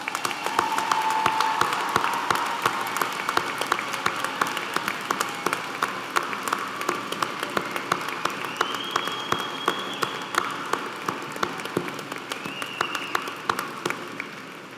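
Sustained applause from a large audience at a university graduation ceremony, steady clapping throughout with a few faint whistle-like tones rising above it.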